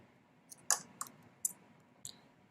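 Scissors snipping yarn into scarf frills, a handful of sharp, close clicks spaced unevenly over quiet room tone with no talk.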